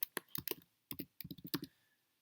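Typing on a computer keyboard during a Flutter programming session, a handful of crisp, close key clicks in two short bursts separated by a brief pause.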